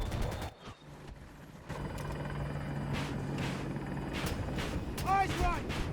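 A helicopter hovers overhead above an EMKV90-TOR railgun tank in Battlefield 2042, its steady rotor drone running throughout, with sharp bursts of gunfire and impacts, a brief dropout near the start, and chirpy effects toward the end.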